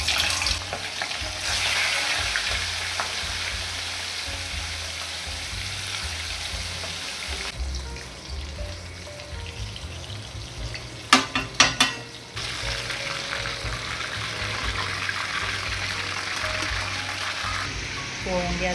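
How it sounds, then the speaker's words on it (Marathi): Prawns fry in oil in a wok, giving a continuous close sizzle with scraping stir strokes and a short burst of metallic utensil clinks midway, while a voice talks over parts of it. "आपण आहे ना कोळंबी थोडी फ्राय करून घेऊ"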